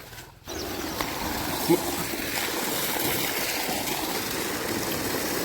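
After a brief quiet moment, a steady rush of water starts flowing from the outlet of a 5 HP Ecozen solar pump and continues evenly, close by and fairly loud.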